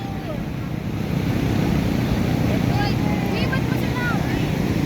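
Sea water washes in on the beach at Liwliwa, a steady rushing surf with wind buffeting the microphone, while voices talk over it.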